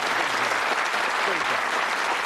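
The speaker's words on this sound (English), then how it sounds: "Give them a round of applause." Studio audience on the Bullseye darts game show applauding, a steady, dense wash of clapping that holds at an even level for the whole stretch with no break.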